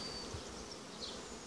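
Honey bees, both old and young, buzz faintly but steadily as they are shaken off a frame, a soft continuous hum with no voices.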